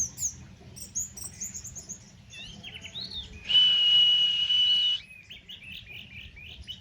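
An orange-headed thrush sings a string of varied chirps and whistles up close, with one loud sustained passage in the middle, against a quiet background.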